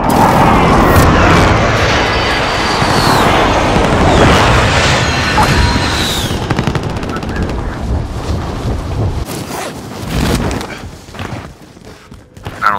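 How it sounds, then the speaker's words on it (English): Airstrike explosions in Call of Duty Warzone roll out as heavy, roaring booms that dominate the first half, then die down into quieter rumbling and crackling noise. "Friendly position airstrike inbound."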